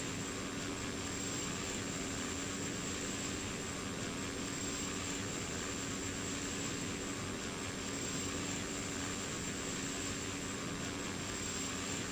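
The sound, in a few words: Cessna Caravan propeller engine in a flight simulator video game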